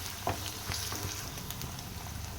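Ginger garlic paste frying in a pan with green chillies, a steady close sizzle with a few light stirring taps, with no talking.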